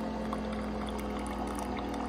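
A Nespresso Vertuo Next coffee machine running its rinse cycle gives a steady, close hum mixed with flowing water, continuous and even throughout.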